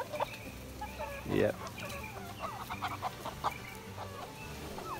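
Chickens clucking near a large meat bird at a poultry show, several close clucks and squawks scattered over a few seconds amid a busy barn hubbub, with a person speaking briefly.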